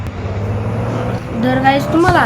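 Engine drone of a car driven in the mobile game Car Parking Multiplayer holds steady, then revs and rises in pitch, with a voice talking over it.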